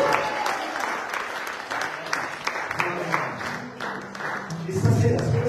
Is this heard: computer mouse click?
no